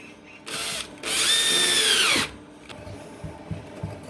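A power drill drives screws into a wooden cleat for a hidden backyard bunker: a short whir, then a longer, loud, close burst whose whine rises and falls as the screw seats, followed by quieter handling noise.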